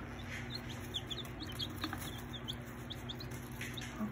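Baby chicks under a heat light in a brooder, chirping in a steady stream of high, quick peeps over a low background hum, close and continuous.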